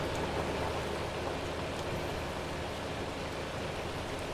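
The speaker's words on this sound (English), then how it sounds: "Hail has stopped. It's now just raining" Steady rain pours down in Farming Simulator 25 after a hailstorm has passed, a dense, even hiss of falling water filling the whole clip with no breaks.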